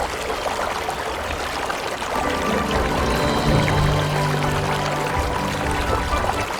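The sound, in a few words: waterfall water flowing in Thailand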